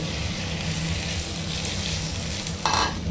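CDO longganisa sausage, 270 grams, fries with mixed vegetables in sesame oil in a pan, giving a loud, continuous sizzle. A brief scrape of stirring comes near the end.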